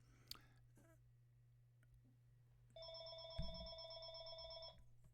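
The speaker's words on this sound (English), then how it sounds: "Okay, I've got a phone call coming in" An incoming call sets a telephone ringing, a steady electronic ring lasting about two seconds over low room hum, with faint mouth noises nearby, moderately loud and close.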